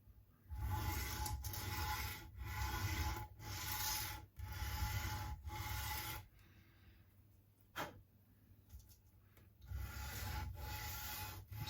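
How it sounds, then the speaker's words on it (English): Sandpaper rubbed against a guitar nut on a PRS Bernie Marsden SE during setup, a close, rhythmic scratchy rasp in repeated strokes with brief pauses between passes. "Switch down a grade of sandpaper."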